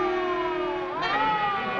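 A wailing siren, loud and steady, its pitch sliding up and down with a rising sweep partway through.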